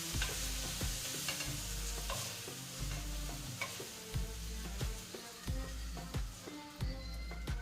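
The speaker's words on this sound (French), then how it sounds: "J'ai bien fait revenir la viande." Meat browning in a hot pan for a gratin, a continuous sizzle with repeated scraping and stirring strokes of a utensil, close and steady throughout.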